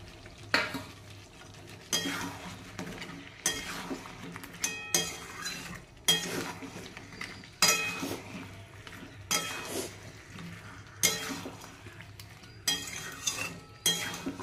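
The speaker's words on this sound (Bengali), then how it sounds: "ভেজে রাখা চিকেনগুলোকে সব এর মধ্যে দিয়ে দিচ্ছি" Fried chicken pieces tossed into a pan of sauce for chilli chicken and stirred, giving repeated scraping, clinking spatula strokes at a steady rhythm over a soft, continuous sizzle, close and moderately loud, with no talking.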